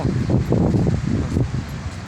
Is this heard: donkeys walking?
no